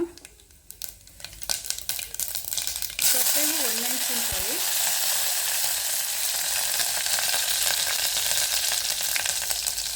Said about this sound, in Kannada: ಒಗ್ಗರಣೆಗೆ ಸಾಸಿವೆ ಹಾಕೋಣ